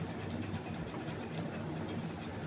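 A train at a station makes a continuous low rumble with faint rolling clatter, a steady, moderately distant mass of sound with no speech.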